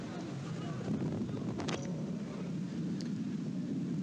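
Strong wind gusts at an outdoor football stadium during a Ruch Chorzów versus Widzew Łódź league match, a steady broadband roar buffeting the microphone with brief crowd-like bursts, continuous and fairly loud.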